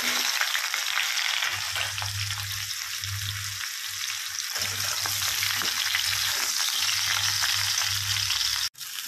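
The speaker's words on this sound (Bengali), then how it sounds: "তেল গরম হয়ে গেছে, দিয়ে দেবো পটলগুলো। আগে পটলগুলো ভেজে নিই।" Pointed gourd pieces frying in hot oil, a steady loud sizzle that runs the whole time, with low rhythmic stirring thumps beneath it and a brief knock near the end, close by and without voices.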